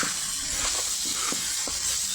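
Tomato chutney with chopped coriander being stirred in a pan, a steady hiss of frying overlaid by several soft scraping strokes of the spoon.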